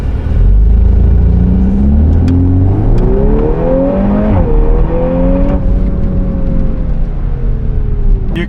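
VW Golf R accelerating hard on the Zwartkops Raceway, close and loud, the engine note climbing steadily through the revs in a continuous strong pull before leveling off.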